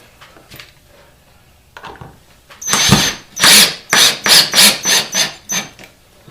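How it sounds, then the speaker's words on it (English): A power drill whirs in a series of short bursts pre-drilling holes, roughly seven pulses close to the microphone, after a few quiet handling clicks. "I just have to pre-drill my holes."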